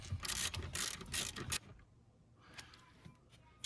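A hand ratchet clicks rapidly in two close bursts, tightening the bolts of rear seat jackers in a Toyota Tundra, followed by a few faint metallic ticks and handling sounds.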